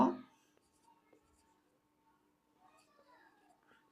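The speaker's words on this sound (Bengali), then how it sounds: "তো তারপর আমরা একটু লিখব।" Faint, sparse scratching of writing on paper in a quiet room, following a brief louder sound at the very start, with light scribbling strokes near the end.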